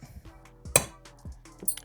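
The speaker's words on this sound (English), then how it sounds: "So now I'm gonna take a center punch, grab the middle of that," A center punch on a YZ125 engine case gives one sharp, bright metallic clink, with softer taps and small handling clatter around it, close and fairly quiet.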